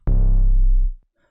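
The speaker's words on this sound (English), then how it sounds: "So for the 808, which I used a Shorty 808" A single Shorty 808 bass drum sample from a drum kit, one deep booming hit with a sharp attack that holds for nearly a second before cutting off, loud and alone.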